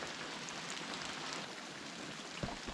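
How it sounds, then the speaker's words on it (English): Light rain sprinkles steadily at a campsite in the Adirondacks, a soft, even hiss of fine drops with a couple of slightly louder taps near the end. "It's not raining that hard right now. It's just lightly sprinkling."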